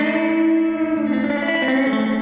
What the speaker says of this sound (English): You can hear the typical spring reverb repeats very good.